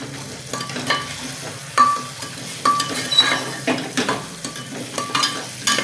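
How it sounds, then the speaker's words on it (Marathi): Stuffed brinjals frying in a pan with tomato, a steady sizzle broken by repeated scraping and clinking of a spatula against the pan as they are stirred, close and fairly loud. "एक 2 मिनिटं ना हे वांगे छान परतून घ्यायचे"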